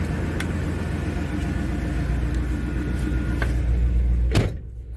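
A 1988 Chevy OBS pickup truck idles with a steady low rumble for several seconds, a couple of faint clicks over the top, and the engine note dropping away near the end.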